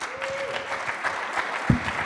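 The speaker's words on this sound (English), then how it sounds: "Give him a round of applause." Audience applause at a startup pitch event, a short burst of steady clapping from a crowd in a room, fairly loud and even throughout.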